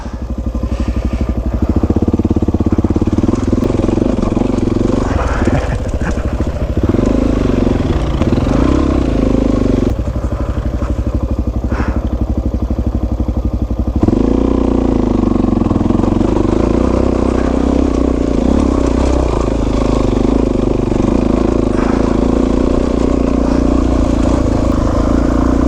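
Dual sport motorcycle engine running steadily while riding a trail in Lincoln National Forest, New Mexico, a loud continuous drone with shifts in pitch as the throttle changes, close to the microphone with no talk.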